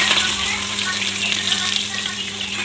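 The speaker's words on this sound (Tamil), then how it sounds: "வெங்காயம் கருவேப்பிலை போடலாம்." Chopped onion and curry leaves frying in a mix of oil and ghee with mustard seeds, a loud, close, continuous sizzle with a steady low hum underneath, no speech.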